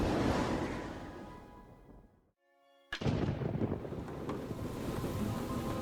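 Raging storm outside a lighthouse in a reality-warping VR puzzle game, a loud broadband roar of wind and rain that dips briefly into near silence before surging back in a sharp crack and a sustained rumble.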